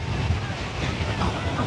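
Powerful wind sweeps across Puri sea beach and batters the microphone with a steady, loud rumble. The ocean surge sits beneath it.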